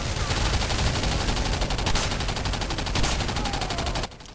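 Rapid automatic weapon fire from a 2010 horror shooter video game, a dense continuous stream of shots for about four seconds, loud and close, cutting off abruptly near the end.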